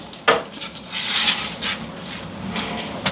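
A spoon stirs prawn curry in a cooking pot, making a sharp knock and then continuous scraping and swishing with a few more taps. It is close and moderately loud, with no one talking.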